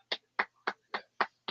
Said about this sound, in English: Dude, do you hear me clapping?